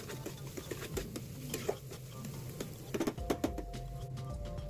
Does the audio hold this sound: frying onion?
yes